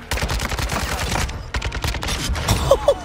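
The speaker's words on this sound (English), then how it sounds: "I feel like I need to start using the RPK on Embassy every time." Automatic fire from an RPK machine gun in an online shooter match on the Embassy map, a rapid dense volley of close, loud shots running through the whole clip, with a few brief tonal game sounds near the end.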